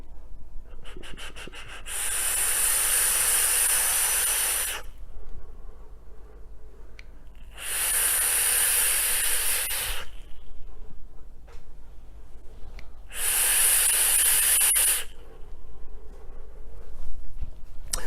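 Three long, airy draws on an RDTA vape atomizer at 50 watts with a 0.20 ohm coil and the airflow wide open, each a steady hissing rush lasting a few seconds, separated by quieter pauses.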